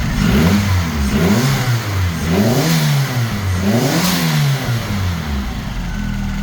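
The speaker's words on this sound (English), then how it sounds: "Love how these 4-cylinder sound with the turbo." A turbocharged four-cylinder engine in an MK2 Volkswagen Jetta coupe revs repeatedly up close, rising and falling in a series of loud, quick blips before settling into a steady drone.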